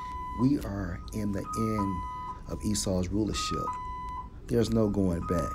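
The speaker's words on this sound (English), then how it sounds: "As you can hear the sound of the alarm in the background" A high electronic alarm beeps repeatedly in the background at an even pace while a person talks continuously over it.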